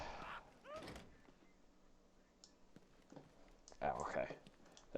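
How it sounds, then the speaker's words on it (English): A door opens in the Batman: Arkham Knight video game with a short thunk and slide, followed later by a louder clatter, under game music and speech. "Let's open the door."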